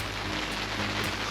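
Heavy rain pours steadily in the Philippines, a dense, close hiss of drops striking surfaces that holds at a constant level, with no voices.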